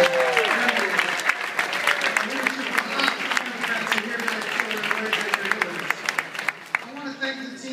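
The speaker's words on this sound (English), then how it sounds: "Let's give them a big round of applause." Applause from the crowd at a fall political fundraising gala, a full round of clapping that carries on for several seconds while people talk and call out over it.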